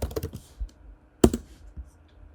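Rapid clicking keystrokes on a computer keyboard, a short cluster of taps followed by a single sharper press and a few scattered clicks, close and fairly quiet.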